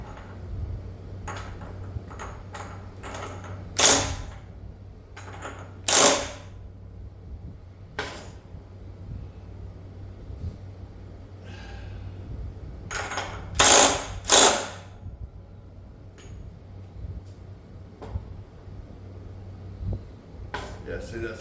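An impact wrench fires several short, loud bursts of tightening separated by pauses, with quieter mechanical clicks and handling noises between them.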